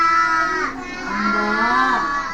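A person imitates a cow, giving a long, drawn-out moo with a wavering, rising and falling pitch, close and clear.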